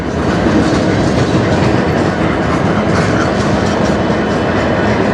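A CN freight train rolls past close by in Sarnia, Ontario, a loud continuous rumble with rhythmic clickety-clack of wheels over rail joints and no voices.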